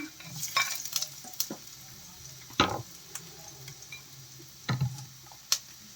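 Garlic for sardines with spinach fries in a pan with a soft sizzle, broken by sharp clicks and scraping stirs at irregular moments.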